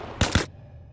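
Two rapid gunshots in Arma Reforger during a Conflict PvP match, sharp and close, fired in quick succession within a fraction of a second, followed by quiet.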